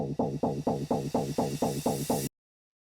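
Short chopped vocal stab used as a tech house transition, repeated about ten times in an even fast rhythm over a hiss that rises toward the end before cutting to silence.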